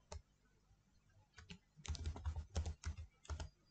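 Someone types on a computer keyboard while entering a web address, starting with a few isolated key taps, then a quick close burst of clicking keystrokes.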